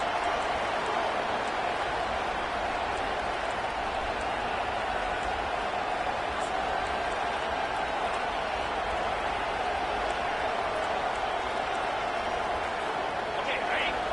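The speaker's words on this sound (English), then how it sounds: "This crowd is trying to inspire this defense to make a big red zone stop." A stadium crowd roars at an Arkansas versus FSU college football game as the defense tries for a red zone stop. A dense, continuous wash of crowd noise runs throughout, with a commentator talking over it.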